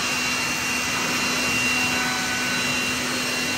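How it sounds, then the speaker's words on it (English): A steady, loud air blower roars continuously without pause while drying a car's engine bay, a broad rushing whoosh with a faint steady hum underneath. "And we'll continue to blow dry this engine bay."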